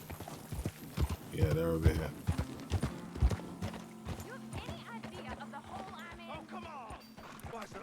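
A horse's hooves clip-clop unevenly at a walk in the open world of Red Dead Redemption 2, close and moderately loud, settling toward the end, while someone talks briefly over them.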